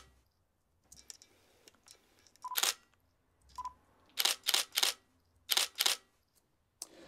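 Camera shutter sound effects from a sound library, played as a series of crisp, close clicks, some in quick pairs, with brief pauses between them and no talking.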